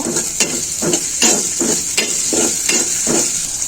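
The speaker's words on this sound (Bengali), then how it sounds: "বাকি তেলের মধ্যে আমি দিয়ে দিচ্ছি পেঁয়াজ এবং কাঁচামরিচ কুচি" Chopped onions and green chillies fry in oil in a pan, a steady close sizzle broken by rhythmic scraping stirs roughly every half second.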